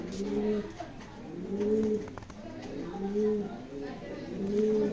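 Racing pigeons coo in repeated low, throaty phrases, close and fairly loud, with someone talking intermittently nearby.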